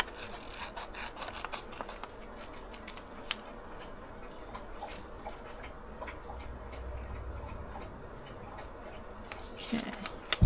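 Scissors fussy-cut a paper character out, a quiet series of small snips and rustling paper scrapes at close range, soft and irregular with brief louder clicks.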